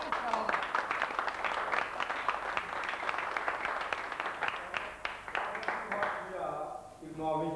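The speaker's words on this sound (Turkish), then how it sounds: "Alkışlar!" An audience at a village volleyball competition claps in a dense burst that gradually thins out, then a voice starts speaking near the end.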